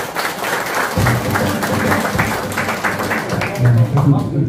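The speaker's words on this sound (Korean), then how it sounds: "큰 박수 부탁드립니다." Wedding and first-birthday party guests give loud, dense applause in a banquet hall, sustained through the whole stretch, with a voice and some low musical tones mixed in.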